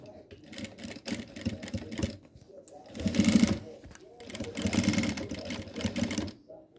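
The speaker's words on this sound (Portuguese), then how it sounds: "a gente vai rebater ele com uma costurinha bem na beiradinha" A sewing machine stitches a hem right along a fabric edge in several bursts of rapid, rhythmic whirring, with short pauses between runs and faint talk in the background.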